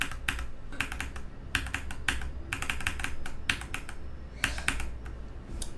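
Clicks timed to the jumps in a rhythm game level come in quick clustered bursts of sharp, close taps with short pauses between groups.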